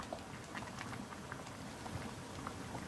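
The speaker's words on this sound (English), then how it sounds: "Make sure so you just let your cold water run and you stir it up" Cold tap water runs over rice while it is stirred by hand, a steady spattering, bubbly trickle with light scattered splashes, close and moderately quiet, with no talk.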